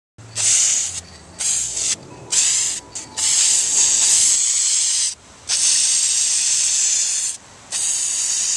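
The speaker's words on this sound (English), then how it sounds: "Don't think you can't paint with a spray can and have it come out looking pretty good." Aerosol spray can paint hissing onto a car body panel during a DIY body repair, in repeated loud bursts of several seconds each with short pauses between.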